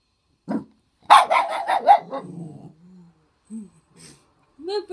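A dog giving a quick run of close barks and low growly sounds, with a voice nearby and quiet gaps between bursts.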